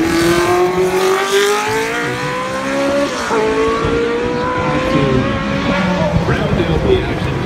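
A historic 1982 Tyrrell 011 Formula 1 car, number 6, races at a historic event in Canada. Its high, loud engine note climbs steadily through the gears with a brief shift dip, over constant track noise while a commentator talks.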